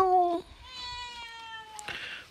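Pet cat at a rural home meows several times in quick succession around feeding time: a drawn-out, high call, then shorter mews, close and clear against a quiet background.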